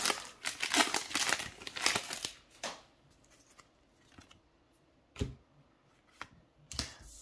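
Plastic wrapper of trading card booster packs from a New Capenna box crinkling and tearing open in close, loud bursts, then a few sharp isolated crackles after a quieter stretch.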